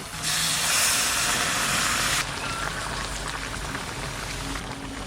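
Hot water poured into mutton curry simmering with potatoes and whole garlic in a kadai gives a loud, steady steaming hiss and sizzle for about two seconds, then settles into a softer continuous bubbling hiss.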